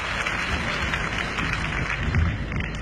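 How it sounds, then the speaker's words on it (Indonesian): A crowd claps steadily, a dense wash of many hands applauding without pause, moderately loud and somewhat distant. "Tepuk tangan untuk Saudara Yanuar Rizky Pahlevi."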